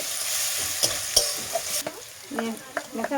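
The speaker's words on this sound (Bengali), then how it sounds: "রসুন বাটা দিয়ে বেশ খানিকক্ষণ নাড়াচাড়া করে নিই।" Garlic paste is stirred and fried with browned onions in a pan for a potato and meat curry, giving a steady close sizzle broken by repeated spoon scrapes and clinks, with no voices.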